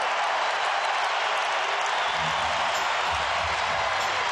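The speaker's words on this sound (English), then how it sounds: "Look at this crowd." Arena crowd at an NBA basketball game between the Washington Wizards and Charlotte Hornets in 2003, roaring with sustained cheering and applause, loud and continuous, with a few low indistinct voices surfacing partway through.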